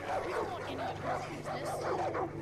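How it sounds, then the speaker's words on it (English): Several dogs bark and yip continuously at close range in the Far Cry 5 video game, an agitated overlapping chorus with no clear speech over it. "Their dogs hate me!"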